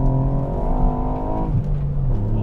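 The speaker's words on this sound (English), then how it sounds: "I'm going to go around a roundabout here and it just goes." A Mountune m235 tuned Ford Fiesta ST Mk8 on sticky Michelin tyres rounds a roundabout, its engine note droning steadily up close, then dipping and rising again as the revs shift.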